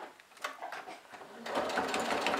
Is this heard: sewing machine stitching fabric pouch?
yes